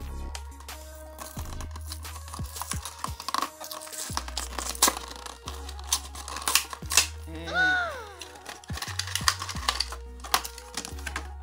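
Plastic blister packaging of a Majorette Porsche 911 Carrera S die-cast toy car being handled and pried open: a close series of sharp clicks, crinkles and snapping plastic, with a brief squeaky scrape partway through.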